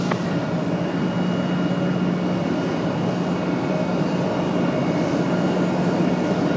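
Boeing 737-900 jet at Raleigh-Durham airport, a loud, steady engine roar with a low droning hum, sustained and fairly close.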